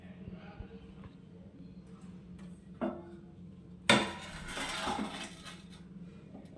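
A metal lid clatters onto a pot of curry on a gas stove: a small knock, then a louder clang followed by brief rattling, against a quiet kitchen hum.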